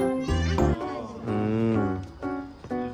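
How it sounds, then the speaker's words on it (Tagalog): A domestic cat meows repeatedly at close range, several drawn-out, rising and falling cries in quick succession, loud and clear in a home setting. "Ah, pusa."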